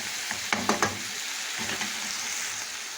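Meat and onions with a spoonful of cinnamon sizzle steadily in a pot while a spoon stirs them, a few clinks and scrapes near the start over a constant frying hiss.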